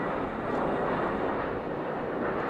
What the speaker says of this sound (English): while you've got the plane flying overhead